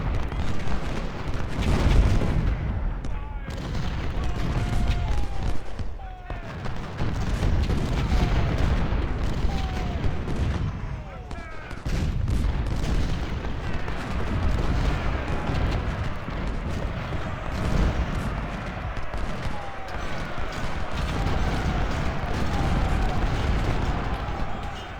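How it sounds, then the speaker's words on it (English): Booming artillery fire from American Civil War cannons in the 1862 Peninsula Campaign, with repeated heavy blasts rolling over a dense, continuous battlefield din at moderate distance. "Now the Union you will find has a lot of artillery."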